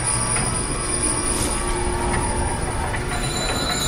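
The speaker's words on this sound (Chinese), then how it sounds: "棺材升起来了！" A coffin rises on a mechanism in a tomb-themed escape room, giving a loud, continuous mechanical grinding rumble with high metallic squeals and no voices.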